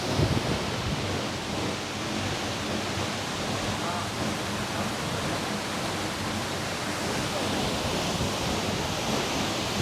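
Tiger Falls, a tall single-drop waterfall near Chakrata in Uttarakhand, roars as a loud, continuous broadband rush of falling water, steady and enveloping throughout, with faint voices beneath.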